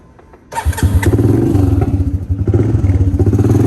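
A Honda four-wheeler engine with a straight exhaust held on with tinfoil sputters to life and settles into a loud, rough, rapid idle with a raw, unmuffled exhaust rattle.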